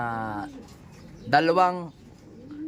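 Racing pigeons coo nearby, with two or three soft, throaty, warbling calls separated by brief pauses, the middle one louder and rising.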